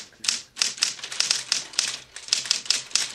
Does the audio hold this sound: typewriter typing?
yes